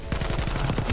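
Shotgun blasts in Black Ops Cold War multiplayer, a quick run of loud, sharp reports with no talk.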